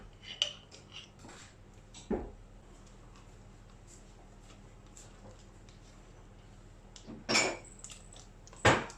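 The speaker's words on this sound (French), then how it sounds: "je vais mélanger avec une bonne cuillère à soupe de moutarde" A tablespoon clinks and scrapes against a dish while leftover soy cuisine is mixed with mustard, sparse metallic taps and a few louder knocks over quiet scraping.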